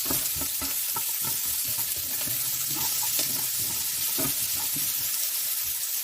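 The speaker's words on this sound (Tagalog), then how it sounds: "I fry the onion in a high heat." Onion frying in a pan on high heat, giving a steady crackling sizzle with scattered pops and stirring scrapes, close and continuous, no voices.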